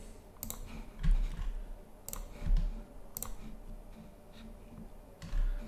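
A computer mouse clicks a few times, faint and sparse, over a quiet, slightly noisy room background.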